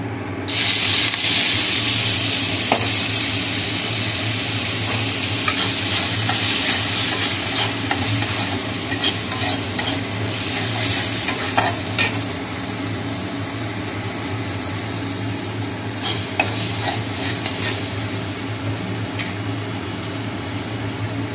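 Home-grown water spinach (kalmi greens) hitting a hot pan: a loud burst of sizzling that settles into a steady, close hiss, with occasional scrapes and stirs.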